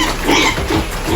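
Pigs on a farm grunt and snuffle continuously at feeding time in the rain, a close, busy jumble of low oinks over a steady wash of rainfall noise.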